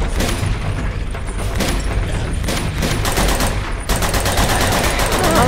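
Dense, loud gunfire in Uncharted 2: Among Thieves during a cold, snowy chapter: rapid overlapping shots and bursts sustained throughout, with no talking.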